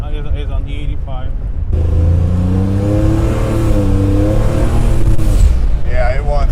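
A Buick Grand National running on E85 fuel accelerates close by, its engine note climbing in a strong, steady rise for a few seconds before easing off. People talk briefly before and after the pull.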